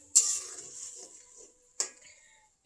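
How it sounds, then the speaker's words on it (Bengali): Two distinct scraping, sizzling strokes in a pan as ginger and garlic paste is stirred, each a bright rasp that fades, with a faint tap at the end. "আদা বাটা, রসুন বাটা, ভালো করে নেড়ে চেড়ে নিই।"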